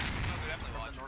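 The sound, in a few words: mortar and grenade explosions in a military video game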